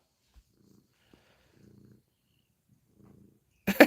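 A female house cat purrs softly nearby in three short, quiet rumbling bursts separated by silence, ending with a sudden loud rustle close to the microphone.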